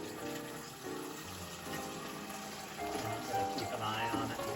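Water pours into the collection cup of an Almond Cow plant-milk maker, filling it to the minimum line, a steady gushing, splashing stream heard close up with a person talking over parts of it.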